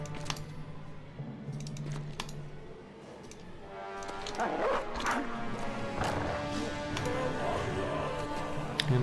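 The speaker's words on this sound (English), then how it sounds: "I think I can just release the hounds and let the dogs finish them off" Dogs barking amid the busy clatter and crashes of battle in a medieval strategy video game, where peasant militia release hounds to finish off enemies; the barks sit inside a dense, continuous layer of game noise.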